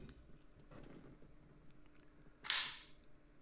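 A repaired gun fires once in a video game, a single sharp crack with a bright hissing burst that fades quickly over low background game noise.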